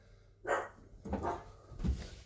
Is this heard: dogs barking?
yes